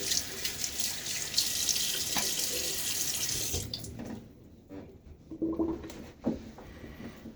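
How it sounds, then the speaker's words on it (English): Water gushing steadily from a bathroom tap into a sink during a morning shave, close and moderately loud, then cut off partway through and followed by scattered drips and splashes as water is brought to the face. "Put water on my face one more time."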